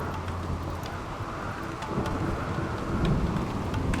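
Steady rain and thunderstorm from the video game RimWorld, a continuous dense hiss of falling rain with low rolling thunder swelling toward the end, fairly close and unbroken, with no talking.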